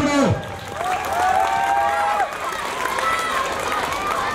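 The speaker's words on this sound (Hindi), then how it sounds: "तालियां बजाकर खिलाड़ियों का हौसला बढ़ाओ" Audience at a CWE wrestling bout cheering and shouting for the wrestlers, a steady roar of voices with whoops and yells throughout, clapping faint under the noise.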